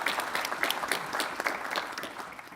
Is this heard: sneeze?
no